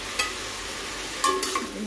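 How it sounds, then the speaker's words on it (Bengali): Pieces of pointed gourd (potol) fry in a pan, a steady close sizzle with a couple of quick utensil scrapes and clinks. "এদিকে পটল ভাজা হচ্ছে।"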